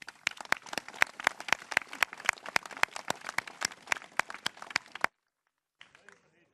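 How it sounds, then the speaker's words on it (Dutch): A small group claps at a village gathering in Koudum, with steady, fairly close, evenly spaced hand claps for about five seconds before stopping abruptly into near silence, followed by faint brief noise. "Applaus."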